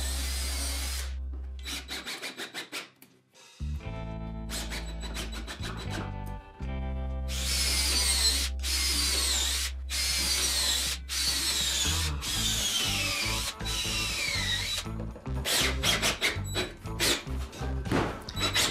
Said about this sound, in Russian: Насверлив кучу дырок, стянул короб очень крепко.